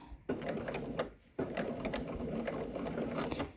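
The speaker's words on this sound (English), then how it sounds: "so we are sewing at 1/4 inch seam allowance" A sewing machine stitches swimsuit fabric at a quarter-inch seam allowance, its rapid, even mechanical chatter running close and steady with one brief pause early on.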